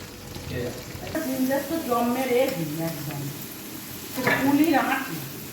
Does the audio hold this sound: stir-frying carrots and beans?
yes